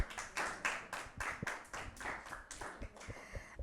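Children in a classroom clap for a classmate with a burst of quick, uneven handclaps that runs steadily for a few seconds at moderate loudness, with no talk over it.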